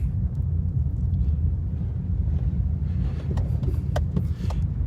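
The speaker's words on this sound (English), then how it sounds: "Might as well give you a little tour of the park while we're driving through here" A car rolls slowly through a parking lot at a beach state park on a windy, rainy morning, with a steady low engine and road rumble and a few faint clicks and knocks near the end.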